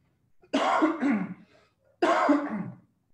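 Two harsh throat-clearing coughs, close and fairly loud, separated by a short pause, each a rough burst with a raspy tail.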